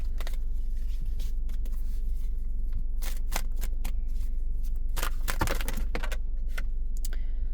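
Quick bursts of tarot cards riffling and flicking together, several close shuffles in a row with short pauses between them, no talking.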